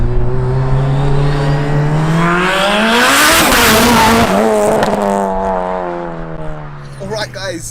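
An 1100hp Mitsubishi Evo with a four-cylinder turbo engine and sequential manual gearbox roars through a hard run, engine note climbing steadily to a loud peak, then easing off as it slows, heard from inside the car.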